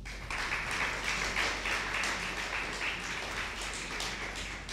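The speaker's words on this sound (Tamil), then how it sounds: "நல்ல ஒரு கைத்தட்டு கொடுங்க." Crowd applause, a sustained wash of many hands clapping together at moderate volume, steady for several seconds.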